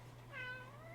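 A single short cat meow, rising then falling, heard faintly over a low steady hum with no talking.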